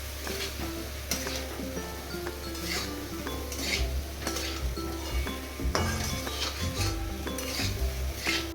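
A spoon scrapes and clinks in a pan as fried potatoes are stirred with spices, repeated metallic knocks and scrapes over a soft sizzle, close and fairly quiet.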